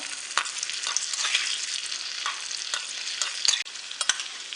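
Cashews and raisins fry in a pan for a sweet temple offering, giving a bright continuous sizzle close by, punctuated by several crisp scrapes and taps of a stirring spoon, with no voices.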